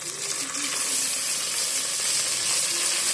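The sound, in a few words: washed mutton added to a hot pan, frying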